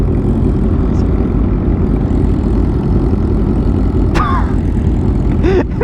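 A Yamaha R1 motorcycle on a fast group ride sits running at a light, its loud, steady low engine drone close and constant, with a brief voice-like squeal near the end.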